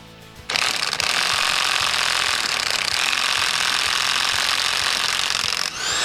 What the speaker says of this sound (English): The next step requires the use of an impact wrench and a 19mm impact socket.